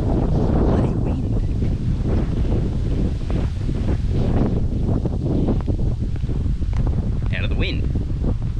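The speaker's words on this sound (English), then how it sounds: "Bloody wind." Strong coastal wind near Munglinup Beach buffets the microphone in a constant loud roar, with gusty rumble throughout and a brief faint chirp near the end.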